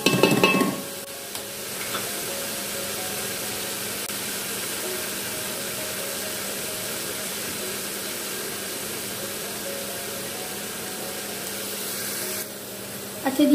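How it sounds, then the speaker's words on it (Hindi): Chicken with green onions fries in a hot pan, a steady loud sizzle that hisses on without a break for several seconds, close up, with a few clatters at the start and end. "आप देख सकते हैं कि कितनी जल्दी जल्दी फ्राई हो रही है ना ये"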